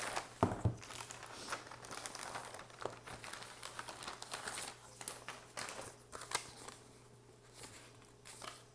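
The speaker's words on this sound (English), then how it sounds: "I'm struggling with scissors." Close crinkling and rustling of packaging with scattered sharp snips and crackles, fairly quiet and irregular over a steady low hum.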